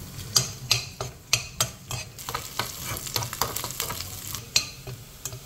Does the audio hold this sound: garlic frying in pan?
yes